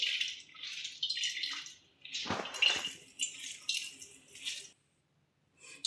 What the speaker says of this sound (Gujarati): હવે હાથેથી આવી રીતે આપણે દબીને ખાટું પાણી આપણે અલગથી કાઢી લેશું.